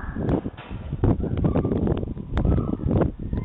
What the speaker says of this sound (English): Why is it so windy in this hallway?